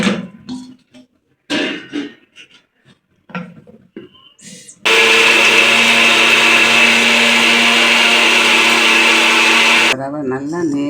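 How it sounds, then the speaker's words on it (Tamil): Mixer grinder powdering semolina (rava), a loud steady motor whine that runs for about five seconds and then stops, following speech and light handling noises. "இப்போ ரவையை நல்லா நேராக பவுட்ரு மாதிரி அடிச்சுக்கிறோம்"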